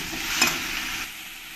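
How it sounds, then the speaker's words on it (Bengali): Cumin and coriander powder frying in a pan for a Bengali rohu fish curry, a brief close sizzle with a scrape of stirring partway through, fading slightly at the end, no talk. "আর একটু ধনের গুঁড়ো দিয়ে দেব, দিয়ে ভালো করে আমি কষিয়ে নেব।"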